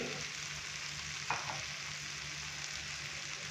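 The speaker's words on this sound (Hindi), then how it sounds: "आलू डालने के बाद अच्छे से हम इसको मिक्स करेंगे" Potatoes are stir-fried in a pan, giving a soft, steady sizzle throughout with one brief scrape of a spatula partway through.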